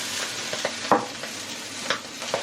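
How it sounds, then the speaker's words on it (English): Food sizzles in a pan on medium heat, a constant crackling hiss punctuated by several scraping stirs, heard close with no talking. "I'm putting it back to 3 because it is actually sizzling away"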